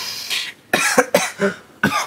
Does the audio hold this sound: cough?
yes